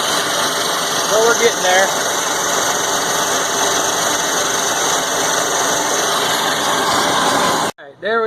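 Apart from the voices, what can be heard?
milling machine cutting log splitter blade with end mill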